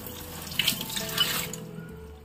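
Water runs steadily from a tap close by, with a bright, even splashing flow and no talk over it.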